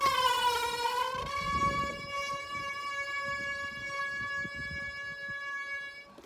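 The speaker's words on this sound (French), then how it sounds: "on dirait une sirène" A loud wailing siren with rising then sustained harmonic tones, ringing out steadily and close with faint background noise underneath, heard during a Loire bicycle ride.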